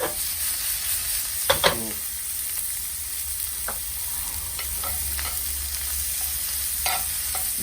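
Garlic and shallot frying in a pan for a steak dinner, a steady close sizzle with a few brief stirring scrapes and clinks, and a single short exclamation from a voice.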